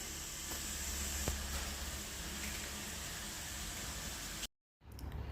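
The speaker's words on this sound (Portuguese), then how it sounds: "a água fria do boiler já está entrando" Cold water rushing into a low-pressure boiler, a steady hissing gush of filling water, close and even, cutting out abruptly near the end before faint noise returns.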